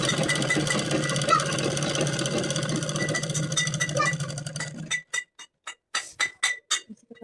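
A sewing machine stitches the seam of a petticoat made from four panels. It runs with a steady mechanical whirr for about five seconds, then stops. After that come several short separate bursts of stitching, close and fairly loud.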